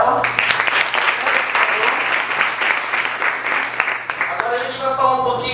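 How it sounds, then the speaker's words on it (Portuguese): An audience at a public-speaking talk breaks into steady, close applause that holds for several seconds, with a voice speaking over it near the end. "eu vou pedir uma salva de palmas para ela."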